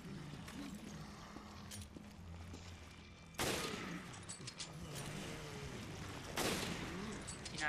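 Gunfire in Resident Evil: Revelations on PS4: two sharp, loud shots about three seconds apart ring out over a low, steady game ambience.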